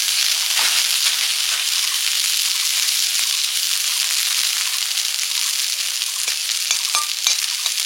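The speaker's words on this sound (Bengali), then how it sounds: "আর একটু এই নিভানো উনুনে ভাজলে ভালো সুন্দর ভাজা হবে" Tender neem leaves fried in ghee on a dying clay stove, giving a loud, continuous crackling sizzle with faint occasional stirring clicks near the end.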